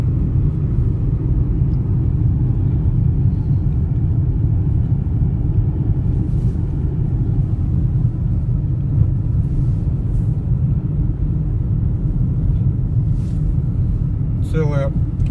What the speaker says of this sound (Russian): Целая куча огромных погрузчиков, покажи слева, которые грузят снег.